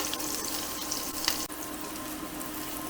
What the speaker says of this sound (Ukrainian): на сковорідці обсмажуємо баклажани